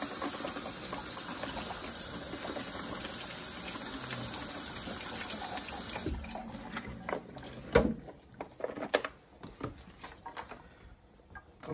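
Tap water runs in a steady, close stream over grape tomatoes for about six seconds, then shuts off, followed by scattered clatter of handling in the kitchen.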